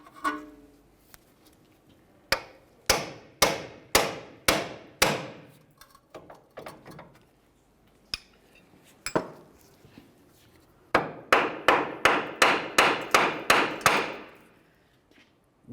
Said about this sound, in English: let's continue on with a hammer and pickle fork and separate the ball joint from the knuckle.